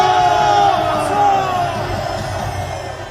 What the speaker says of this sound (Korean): 큰 함성과 박수로 격려 한번 해주십시오